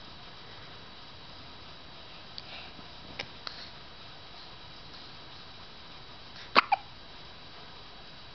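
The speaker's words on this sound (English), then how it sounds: "That's a hiccup, mister." A baby hiccups in his sleep, giving a few soft faint clicks over quiet background hiss, then two sharper, louder hiccups close together near the end.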